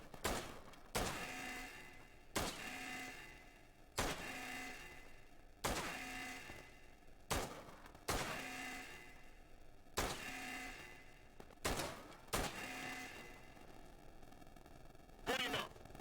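Gunfire on a shooting range in the video game Ride to Hell: Retribution: about eight or nine sharp, evenly spaced shots roughly every one to two seconds, each with a short ringing tail, loud and alone.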